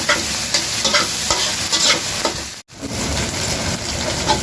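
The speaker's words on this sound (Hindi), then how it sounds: "वेजिटेबल्स गुड़ाक कैरेट बीन्स भल भाव मिक्स करा होची।" Carrots and beans for chicken fried rice are stir-fried in a pan with a loud, continuous sizzle and scraping stirs, broken by one brief gap.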